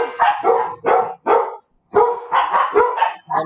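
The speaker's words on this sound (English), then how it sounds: "One of our dogs likes to bark at nothing." A dog barks in sharp, close bursts, around eight loud barks in quick uneven succession with one brief pause, alone with no talking.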